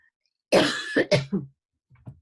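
A few harsh coughs in quick succession, close and loud, followed by a brief pause and a softer cough.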